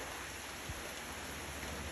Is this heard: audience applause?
no